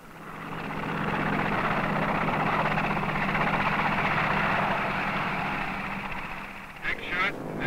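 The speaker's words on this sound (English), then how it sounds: "tell the ship to launch the 4 helos." Navy helicopters lifting off from a ship at sea, a loud, steady rotor and engine roar that swells and holds, with a brief garbled radio-like voice near the end.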